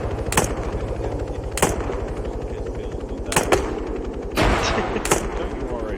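Incoming artillery in the military shooter game Arma 3, with several sharp heavy impacts spaced unevenly, one followed by a falling whistle-like sweep, over a steady rumbling bed of battlefield noise.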